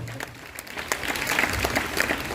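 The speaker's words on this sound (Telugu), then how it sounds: "గట్టిగా చప్పట్లు కొట్టాలి." A church congregation applauds during a holy mass feast celebration, a steady wash of many hands clapping at moderate distance that swells slightly toward the end.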